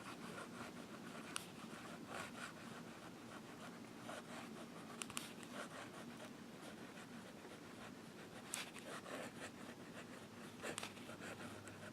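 Nib of a vintage Waterman 748 fountain pen with a fine point scratching across paper, a soft continuous rasp with small irregular strokes and swirls, close and quiet with no talking.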